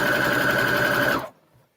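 A sewing machine running steadily with a loud, even mechanical whir and buzz, close up, then stopping abruptly and leaving near silence.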